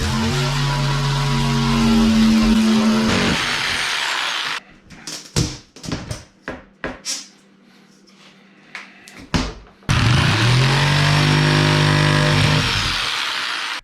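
A Dremel rotary tool cutting an acrylic UTV windshield gives a loud, close, high whine for several seconds. A stretch of clunks and handling knocks follows, then the tool whines again into the end.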